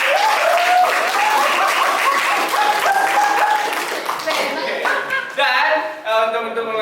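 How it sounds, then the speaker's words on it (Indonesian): Schoolchildren in a classroom clap loudly and continuously, with excited young voices cheering and laughing over the applause before it thins out near the end. "boleh beri tepuk tangan yang meriah untuk kalian semua"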